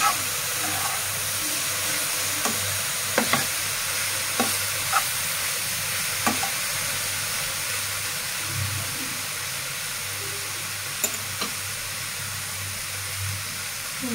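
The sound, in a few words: stirring frying eggplant bhaji in a pan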